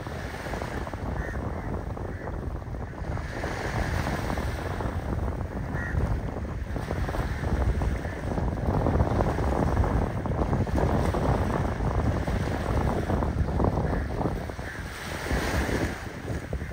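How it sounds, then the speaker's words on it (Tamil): A fishing boat speeds across the sea off Mathagal, Jaffna, with a continuous roar of wind buffeting the microphone, rushing water and a low engine drone. "போட் சும்மா சீறி பாஞ்சு கொண்டு போகுது."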